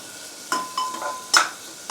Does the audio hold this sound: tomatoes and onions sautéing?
yes